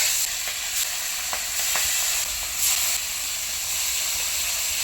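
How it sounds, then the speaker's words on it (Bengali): Salt-and-turmeric-coated river fish frying in hot oil in a kadai, giving a steady, loud sizzle and hiss throughout with a few brief sharper crackles and spits, and no talking. "এবারে একে একে নুন হলুদ মাখানো মাছ তেলের মধ্যে দেবো।"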